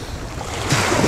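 Sea waves washing in at a fishing spot by the shore, a steady close wash of surf mixed with wind rumble on the microphone, swelling louder toward the end.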